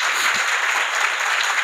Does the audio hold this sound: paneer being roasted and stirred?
no